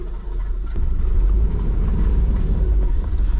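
An 80 Series Landcruiser reversing out, with a close, steady low engine rumble and faint mechanical rattle throughout.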